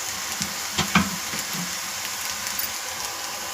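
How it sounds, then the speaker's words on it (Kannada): Ginger roasting in a pan for a village-style Karnataka kalu saaru gives a steady close sizzle and frying hiss, with a few faint stirring clicks over it. "ಸ್ವಲ್ಪ ಶುಂಠಿಯನ್ನು ಆ್ಯಡ್ ಮಾಡ್ತಾಯಿದ್ದೀನಿ. ಅದನ್ನು ಸ್ವಲ್ಪ ಚೆನ್ನಾಗಿ ರೋಸ್ಟ್ ಮಾಡಿ"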